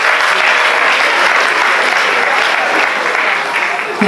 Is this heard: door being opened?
no